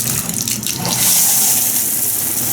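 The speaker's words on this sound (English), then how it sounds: "The shower has good pressure" Shower in a hotel room at the St Louis Airport Marriott runs with good pressure, a steady close hiss of falling water that swells slightly after the first second and continues without a break.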